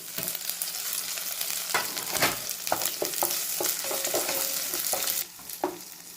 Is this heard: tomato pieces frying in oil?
yes